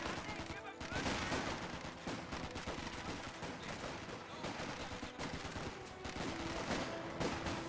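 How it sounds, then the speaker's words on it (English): Rifle fire from a squad of three soldiers holed up in a stone church in Company of Heroes 2, a dense, continuous crackle of overlapping gunshots and bursts over distant battle noise, with a voice faintly underneath. "3 guys are firing out of it at the moment"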